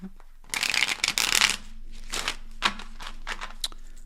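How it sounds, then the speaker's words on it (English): Tarot cards are shuffled close by in a burst of rapid riffling and flapping, followed by a few softer shuffles and taps. "Let's give that another shuffle."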